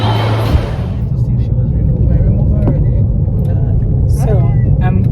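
Inside a moving car, a steady low engine and road rumble fills the cabin throughout, with someone talking over it.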